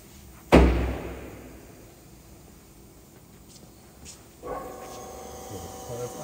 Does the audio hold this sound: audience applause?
no